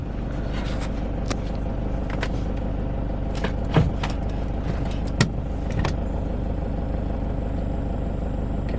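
A car engine idles steadily after being started, during a clock spring repair with the airbag light on and the horn not working; a low, even rumble continues throughout, with a few faint clicks and clatters on top.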